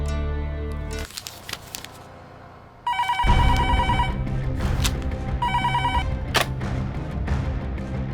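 A telephone rings in a dramatic Hindi action film scene, repeated electronic ring bursts over a loud, swelling music score with occasional sharp hits.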